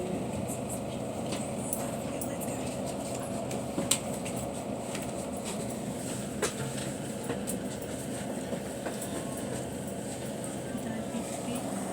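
A London Underground train running on rails, a steady near rumble with faint rhythmic clicks throughout, under low background voices.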